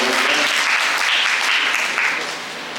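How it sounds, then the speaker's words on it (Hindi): Audience applause fills a theatre during a play about Rani Lakshmibai, steady dense clapping throughout that eases slightly at the end, with no talk over it. "एक बार तालियां हो जाएं"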